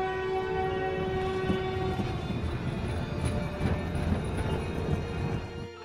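A cartoon train pulls in with a drawn-out horn blast over a continuous rumble of wheels and carriages; the horn fades after about two seconds and the rolling noise carries on.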